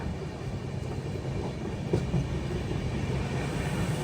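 Steady rumble of a Duronto Express passenger train running from Chennai Central toward Delhi, a dense continuous low roar with faint rhythmic clatter heard from inside a coach, no talking.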